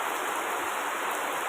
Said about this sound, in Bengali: আমাদের বর্ধমানে বৃষ্টি হচ্ছে, ভারী বৃষ্টি।